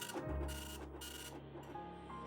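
A vintage Apple ImageWriter II dot matrix printer prints, giving a steady mechanical buzzing rasp with bursts of head chatter and a low motor hum, close up and continuous, no voices.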